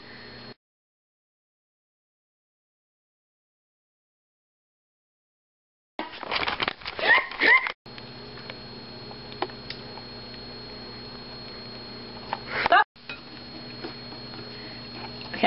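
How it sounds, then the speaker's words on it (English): A whisk is worked through pudding in a bowl. After a short bit of room sound and several seconds of silence, it gives irregular clinks and scrapes, then a steady, continuous stirring clatter, close and moderately loud, with no speech. "Take your whisk and whisk it."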